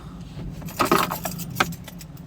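Keys to a Ford Transit Connect van jangling up close, a cluster of bright metallic clinks and rattles with a couple of sharper accents, no talking.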